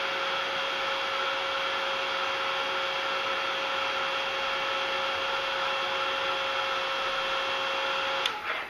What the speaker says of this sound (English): I want to heat it. And I'm using the Ranger heat tool if anyone's interested in that.